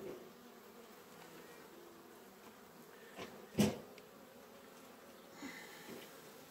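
Honeybees buzz in a low, steady drone at the hive in September, with a few louder passes as insects fly close by; no talking.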